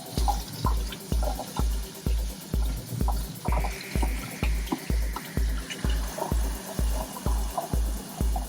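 Water splashes and drips while an aquarium filter part is rinsed, heard close as a regular rhythmic series of wet thumps and gurgles, about two per second and steady throughout, with no talking.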